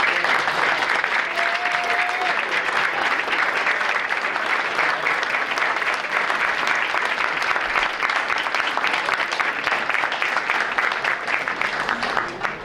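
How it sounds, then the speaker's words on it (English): Sustained audience applause at a school board meeting, honoring parents and friends for supporting their young people, with dense continuous hand clapping from a large crowd, steady and full throughout with faint voices mixed in. "let us give you a round of applause for the support and work that you've done with your young people"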